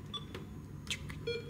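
A toy cash register in a child's play corner gives off a few short, high electronic beeps, faint and quiet against a soft room background.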